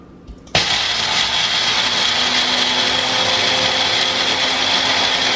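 A mixer grinder grinds roasted cashews and almonds for pini ladoo, switching on abruptly after a brief quiet moment and then holding a loud, steady, close whirring roar to the end.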